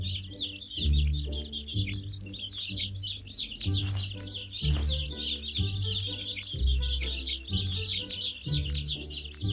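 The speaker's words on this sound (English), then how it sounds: "Let's feed the hungry baby birds with some seeds." Hungry baby birds in an educational alphabet video game chirp in fast, bright repeated peeps over a bouncy looping game melody, continuous and fairly loud with no talk.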